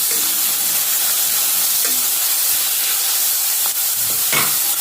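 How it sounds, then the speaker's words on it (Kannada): Onions frying in a pan for Andhra-style chicken gravy, stirred steadily under a loud, continuous sizzle and hiss, with a few faint scraping strokes of the spoon. "ಈರುಳ್ಳಿ ಸ್ವಲ್ಪ ಕಲರ್ ಚೇಂಜ್ ಆಗುವವರೆಗೂ ಮಿಕ್ಸ್ ಮಾಡಿಕೊಳ್ಬೇಕು"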